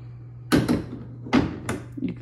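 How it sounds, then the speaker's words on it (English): A metal wire door on a GR1 Intermediate Gunner dog kennel crate is swung shut and latched, giving a few close, sharp clanks and rattles spread over about two seconds against a faint steady hum. "So if I shut this door"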